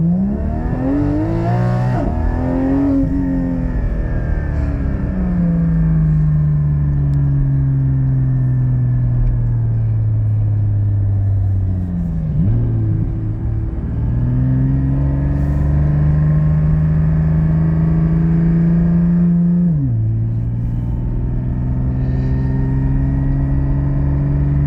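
Car fitted with a Soul Performance V2 exhaust, valves open, heard from inside the cabin: a loud, continuous engine drone with several rev swells and gear-change dips, no talking.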